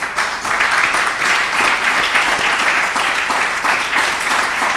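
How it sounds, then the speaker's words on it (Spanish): A church congregation at a Spanish-language service breaks into loud, sustained applause, a dense wash of many hands clapping without pause. "Denle un aplauso a Dios, por favor."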